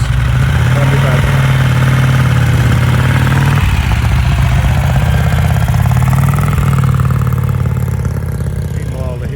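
A vintage Brough Superior motorcycle engine, just kick-started, idles loudly up close with a steady low throb, its pitch dipping and shifting partway through before settling back into a rumble.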